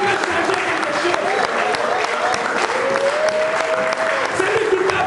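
A church congregation applauds and cheers during a sermon, a continuous wash of clapping with crowd voices and a rising vocal tone, loud and close, filling the whole span.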